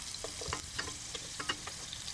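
Fish fries in coconut oil for a fish biryani, a faint, brief crackle and sizzle with small popping bursts.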